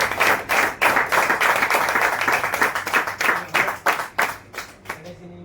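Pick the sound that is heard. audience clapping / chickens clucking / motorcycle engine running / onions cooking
audience clapping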